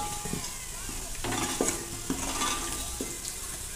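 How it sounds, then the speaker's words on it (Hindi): Potatoes frying in oil and being stirred and lifted out of the pan, giving a loud steady sizzle with scraping and clinking from the utensil against the pan. "आलू फ्राई हो चुके हैं, देखिए अब हम इसे निकाल लेंगे।"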